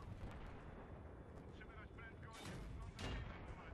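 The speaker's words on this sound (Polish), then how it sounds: "Strzelamy czołgiem." Booming tank cannon blasts in the video game Battlefield 3 ring out amid a continuous rumbling battle din, with sharp explosive bursts near the end.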